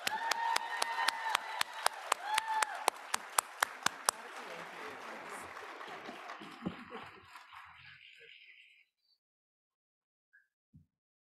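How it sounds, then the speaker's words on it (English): Audience applause at a board of directors meeting: sharp claps with tonal chimes or music over the first four seconds, then broad applause that fades out around nine seconds before near silence. "Everyone give them a round of applause."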